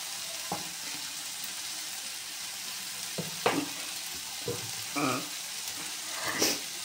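A potato dish with onion stalks and poppy seed sizzles in a pan after a sprinkle of raw oil, a steady frying hiss broken by a few soft clinks and stirring scrapes.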